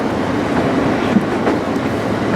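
A passenger train rumbles steadily across a replacement bridge with a close, continuous clatter and faint wheel clicks.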